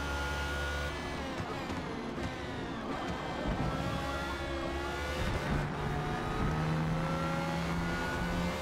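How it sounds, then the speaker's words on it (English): A turbocharged Renault race car in a racing video game at Watkins Glen, its engine droning and rising steadily in pitch as it accelerates, loud and continuous with a whirring tone throughout. "The turbo Renault is just taking off."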